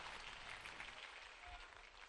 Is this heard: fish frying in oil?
no